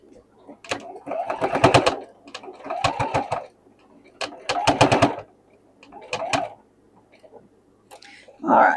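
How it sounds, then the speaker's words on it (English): Domestic sewing machine stitching small fabric scraps together along an edge, running in several close bursts of rapid mechanical whirring with short pauses between, near and clear, with a brief voice at the end. "let's give it a turn and stitch right up through here along this edge"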